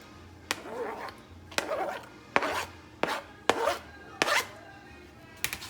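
Knife chopping tomatoes on a cutting board for Colombian beef empanada filling, six or seven sharp close cuts at a steady, unhurried pace, each followed by a short scraping rub.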